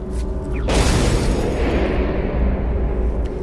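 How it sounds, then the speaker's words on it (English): A grenade bursts in a loud, close boom about half a second in, then a long rumbling decay that slowly fades over the next few seconds. "lobbed a grenade right at him"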